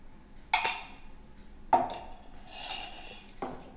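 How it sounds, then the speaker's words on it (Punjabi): A spoon stirs besan gram flour batter in a bowl, giving a few sharp clinks against the side at irregular intervals with soft scraping between them, close and fairly quiet with no talk. "ਚੰਗੀ ਤਰ੍ਹਾਂ ਬੇਸਣ ਨੂੰ ਮਿਕਸ ਕਰ ਦਿੰਦੇ ਹਾਂ ਜੀ ਆਪਾਂ।"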